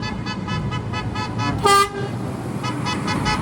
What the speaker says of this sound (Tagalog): Ito na busina pa.